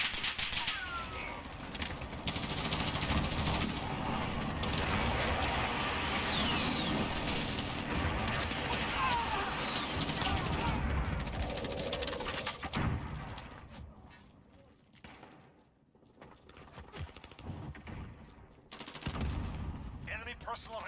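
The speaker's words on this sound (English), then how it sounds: "Enemy precision airstrike" Precision airstrike in Call of Duty: Modern Warfare Ground War: dense, loud volleys of explosions and gunfire roll on for about thirteen seconds, then thin out to scattered distant blasts.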